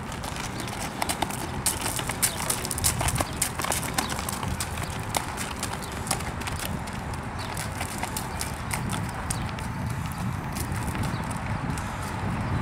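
Hooves of a Red Roan Appaloosa horse, shod on the front, moving at walk, trot and canter: steady rhythmic clip-clop continuing throughout over a broad outdoor rumble, with no talk.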